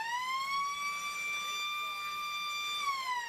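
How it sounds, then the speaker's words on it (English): Final siren at an Australian rules football match at Balwyn Park, a loud sustained wailing tone holding steady before falling away at the end, heard alone. "There's the siren out at Balwyn Park"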